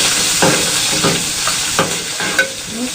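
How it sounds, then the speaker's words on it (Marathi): Green chillies fry in hot ghee with cumin seeds, a loud steady sizzle right up close, broken by a few scraping stirs of a spoon through the pan, with no voices. "आता आपल्याला मिरच्या टाकून घ्यायच्या आहेत. हे बघा ह्या मिरच्या टाकून घेते,"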